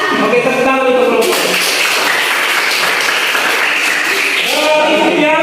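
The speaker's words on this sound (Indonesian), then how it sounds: "tepuk tangan untuk kelompok" Students clapping for a group during a school project session, a dense burst of applause that swells over a teacher's voice and fades back into talk.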